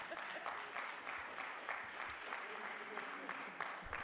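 Brief, quiet applause from a small audience at a city commission meeting, scattered claps with some murmuring voices underneath, fairly distant in a large room.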